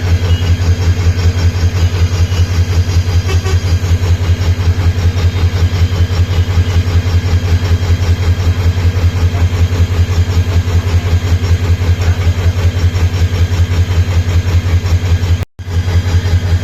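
A crowded train idles at Sreepur railway station in Bangladesh, with people packed onto its roof. Its loud, steady low engine rumble runs unbroken, with one brief dropout near the end.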